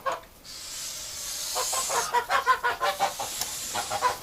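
A farmyard fowl, likely a goose, calls in a run of repeated honking cries at moderate distance, rising after a quiet start and continuing in a rhythmic series over faint background hiss.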